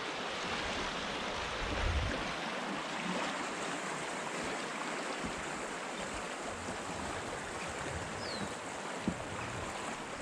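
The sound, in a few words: river flowing by a riverbank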